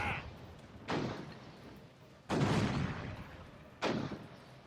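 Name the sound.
ship cannon fire from a video game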